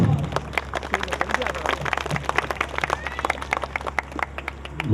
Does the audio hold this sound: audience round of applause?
yes